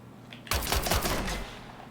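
Gunfire in the shooter Killzone Shadow Fall, a sudden loud burst of several rapid shots lasting about a second before fading into echoing tail.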